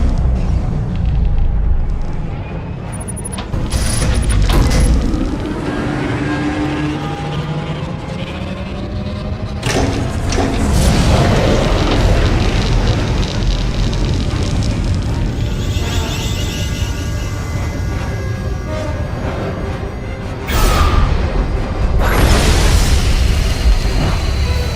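Star Wars: The Old Republic superweapon Silencer fires and explodes, with loud rolling booms and rumbling blasts over a dense orchestral and mechanical din, sharper bursts near 9 and 21 seconds, continuing across the whole stretch.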